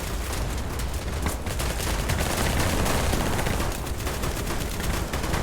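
Vector submachine gun fired in the game Battledudes, a dense, continuous burst of rapid shots emptying a full magazine, loud and close.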